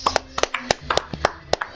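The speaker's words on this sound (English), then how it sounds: "Give a round of applause for our 2023 World of Outlaws Street Stock Champion" Applause at a 2023 World of Outlaws racing league awards ceremony: brief, evenly spaced claps, sparse rather than a full crowd's roar.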